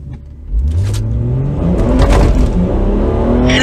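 Tuned 454whp BMW 340i F30 accelerating hard at full throttle, a loud, close engine roar whose pitch climbs steadily after a quick jump in volume, continuous without a break.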